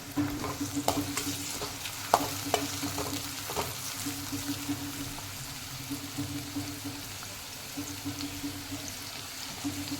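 Onion and tomato frying in a pan for upma, a quiet steady sizzle with light pops and occasional spoon clicks against a low hum, no voices.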